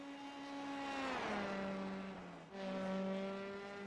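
Engines of race cars on a Roblox racing game track drone loudly with steady tonal whine, dipping and shifting pitch twice as gears change, one long continuous passage with no voices.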